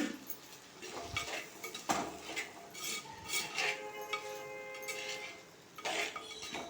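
A spoon stirs okra tamarind curry in a pot, making repeated metallic clinks and scrapes against the pot at an irregular pace, close and fairly quiet.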